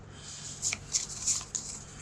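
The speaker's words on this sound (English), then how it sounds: "So shuffle, shuffle, shuffle." Playing cards for the Keep The Heroes Out board game riffle and snap in a few quick, crisp bursts close by, with brief pauses between shuffles and no voices.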